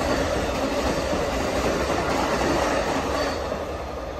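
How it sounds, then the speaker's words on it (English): The Amtrak Coast Starlight passenger train, led by P42 locomotives, rushes past close by at speed, a loud, dense roar of wheels and wind holding steady throughout with no talking. "here comes Amtrak 11, train 11, the Coast Starlight"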